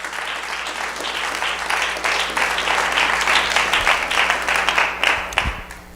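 A church congregation gives loud, sustained applause during a sermon, dense overlapping claps filling the room with a few louder isolated claps and faint crowd sounds near the end.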